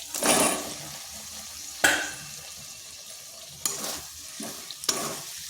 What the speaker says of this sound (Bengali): আলুর সাথে মশলাটা ভালোভাবে কষে নিচ্ছি